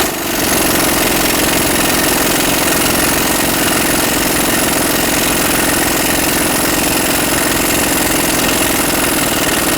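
A pneumatic impact tool hammers continuously and loudly at a front suspension bolt on a 1998 Mazda 626, a dense rapid rattling that holds steady for the full ten seconds with no talking.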